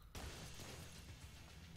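A loud, sustained burst of broadband noise erupts after a brief quiet moment and roars steadily, an explosion in the PC game Blue Estate rumbling on.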